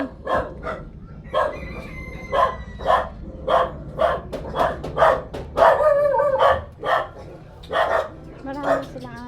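Several dogs bark repeatedly at a house in a rural Filipino neighborhood, sharp loud yaps and woofs in irregular bursts throughout, with people calling and talking in the background.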